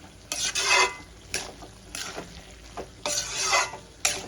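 Bottle gourd and prawn curry being stirred in a pan, repeated rhythmic scraping strokes of a spatula against metal over a low sizzle, loud and close.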